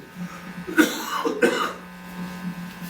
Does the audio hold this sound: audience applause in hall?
no